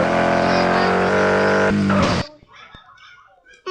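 A car engine in a racing video game roars loud and steady with shifting revs, then cuts off abruptly, leaving faint clicks and quiet background sounds.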